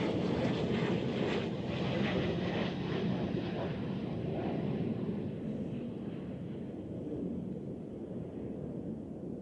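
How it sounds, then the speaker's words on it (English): Cessna Citation business jet on short final to runway 14 at Zurich Airport, a loud, steady roar of jet engine noise that fades slightly as it passes, heard alone without talk in gusty crosswind conditions. "here we have a small Cessna citation on short final for runway 14"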